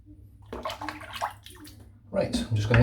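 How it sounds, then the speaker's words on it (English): Water sloshes and gurgles as a full bathroom sink of shaving water and hair drains, with splashy bursts growing louder toward the end over a low background hum. "I'm just going to empty the sink because it's full of hair."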